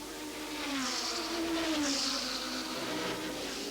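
Historic race cars pass, among them a McLaren with a 5.7-litre engine and another with a 7-litre engine, a throaty engine roar that swells and rises in pitch as it draws near, then fades slightly, with no voices.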